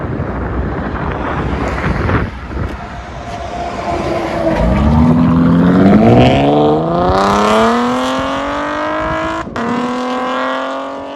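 A Chevy Camaro RS V6 with Borla ATAK dual exhaust, loud and close, rumbles low and then climbs in a rising rev as the pitch sweeps upward, with wind buffeting the microphone throughout.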